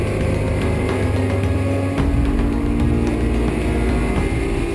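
A BMW M3 race car laps the circuit at the Dubai 24 Hour race, its engine a loud, continuous, close drone with a slight shift in tone partway through and no voices.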